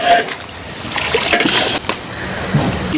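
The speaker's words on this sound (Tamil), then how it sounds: "அரிசியை நல்லா கழுவி எடுத்துடும்." Soaked rice is washed in water in an outdoor village kitchen, giving soft sloshing and splashing with small trickles that continue for a few seconds at close range.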